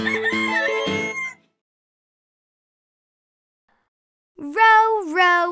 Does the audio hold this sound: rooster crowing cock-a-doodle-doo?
yes